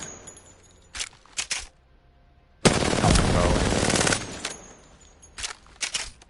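Automatic weapon fire in the video game Apex Legends: short bursts of rapid shots, then one long sustained loud burst lasting over a second, followed by more brief bursts, all close and without talk.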